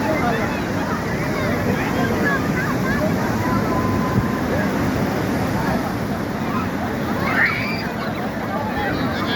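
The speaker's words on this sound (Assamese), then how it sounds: "এই সাগৰৰ পানী এয়া আহি যায় আকৌ গুচি যায়" Sea waves on Puri beach in Odisha, a steady rushing wash of surf with wind and a distant crowd murmur, while a person talks over it.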